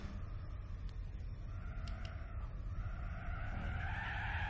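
Car skidding and sliding in Gran Turismo 4, a sustained rough tire scrub over a loud engine roar, with squeal rising toward the end, close and continuous, no talk.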